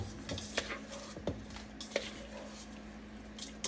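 Steak and potato chunks are tossed by hand with garlic and oil for foil packs, making soft wet squishes and light clicks against a bowl in an irregular rhythm, close and moderately quiet.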